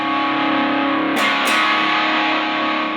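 A Caline Lorcan portable practice amplifier plays with its distortion set bright and trebly, a steady fizzy driven tone that swells briefly in the middle before sustaining to the end, with no voices.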